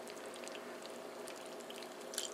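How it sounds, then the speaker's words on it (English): Milk pours from a canister into a bowl of Cinnamon Toast Crunch cereal, a faint, steady liquid trickle lasting a couple of seconds with a soft splash near the end. "let the milk flow out of the canister into your bowl of Cinnamon Toast Crunch"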